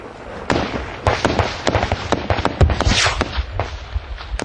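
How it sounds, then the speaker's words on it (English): Close gunfire from Taliban fighters in open ground: a rapid, irregular string of sharp cracks and pops, loud and near, with bursts clustering over a continuous rough background and no talk. "their gunfire very close"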